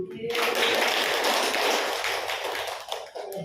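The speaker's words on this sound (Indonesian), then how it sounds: "kami persilakan tepuk tangannya Bu" Audience applause at a junior high school ceremony in Indonesia, a steady burst of clapping from a crowd that swells quickly, holds, then tapers off after a few seconds.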